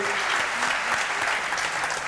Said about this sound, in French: Applaudissements, s'il vous plaît, mesdames, messieurs